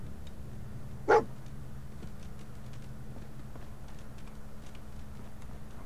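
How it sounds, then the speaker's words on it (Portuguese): A dog in Fallout 4 gives a single sharp bark midway through, fairly close and loud, set against a quiet low ambient hum that carries on around it. "O cachorro encontrou alguma coisa."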